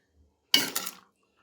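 A metal spoon scrapes and clinks against a pot while carrot halwa is stirred, giving one brief, close, bright stroke in an otherwise quiet kitchen.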